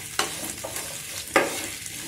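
Onion pieces frying with ginger-garlic paste for a Bagara Baingan curry, a soft sizzle broken by two sharp scraping stirs of a spoon in the pan.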